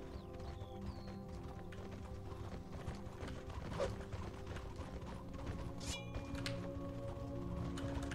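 Steady clip-clopping hooves of a horse trot continuously in the video game Mortal Royale, with a brief neigh partway through, faint and even in rhythm.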